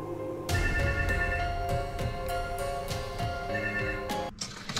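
A public payphone rings with a loud, steady electronic bell tone that repeats in regular pulses, close by and persistent, before cutting off near the end.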